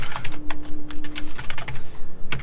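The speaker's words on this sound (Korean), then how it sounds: "키보드가" Rapid, close typing on a computer keyboard, with many crisp key clicks in an uneven but continuous rhythm and no voices.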